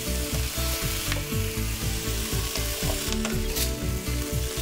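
A filling mixture being stirred in a pan at a food demonstration at an ethnic festival in Winnipeg, with steady sizzling and scraping under a continuous, rhythmic background.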